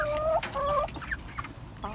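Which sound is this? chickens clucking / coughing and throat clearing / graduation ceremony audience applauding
chickens clucking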